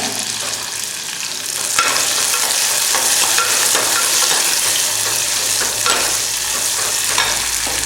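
Onion and curry leaves sizzle steadily in a hot pan while a spoon stirs them, making a continuous close frying hiss broken by occasional scraping knocks.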